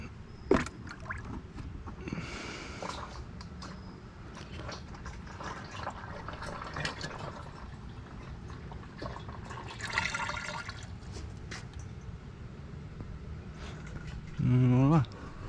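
Used motor oil from a Focus ST drains and pours into a container on a driveway, a steady trickling splash with gurgles and scattered clinks, ending in a brief louder burst.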